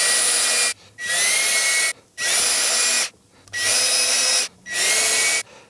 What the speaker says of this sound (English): I'm gonna drill a tiny, tiny, tiny hole in there and then tighten up the screws